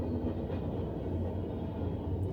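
Freight train of empty cars passing by, a steady low rumble and rolling clatter that stays constant and fairly loud throughout, with no talking.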